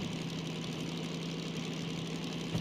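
A DM3 diesel locomotive in Derail Valley idles with a continuous low, steady engine drone and rumble, close and unbroken, with no talking.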